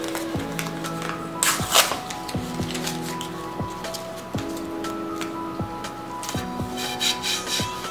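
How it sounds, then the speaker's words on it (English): Soft repeated rubbing and scraping around the edges of a plate during a glitter craft, steady close strokes with light squishy texture and a faint tonal hum beneath. "I'm going to go all the way around making sure this is rubbed good here so the glitter won't seep"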